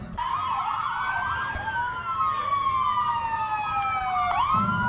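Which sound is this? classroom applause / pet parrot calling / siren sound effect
siren sound effect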